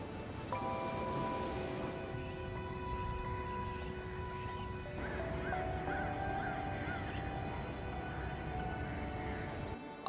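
Flamingos calling in a flock at Thane Creek, with a steady chorus of honking, goose-like calls layered over a continuous wash of background noise.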